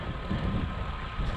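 Steady wind buffeting the microphone with a low rumbling roar, constant throughout with slight gusting swells.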